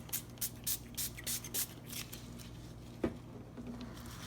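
Spray bottle misting alcohol ink onto a tumbler: a quick series of about six short, soft hissing bursts in steady rhythm, close by, followed by a faint tap and quiet handling.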